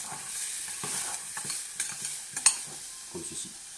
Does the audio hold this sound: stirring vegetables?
yes